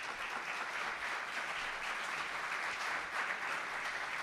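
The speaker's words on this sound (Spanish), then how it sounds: "pedir un fuerte aplauso primero para Mónica Esladoña" Steady, dense applause from an audience at a talk on technology, AI and trade unions, filling the room evenly for several seconds with no voices over it.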